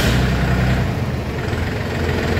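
A Mahindra Jivo 365 DI tractor's diesel engine idles steadily nearby, a continuous low rumble with a smooth, even throb and no other sounds.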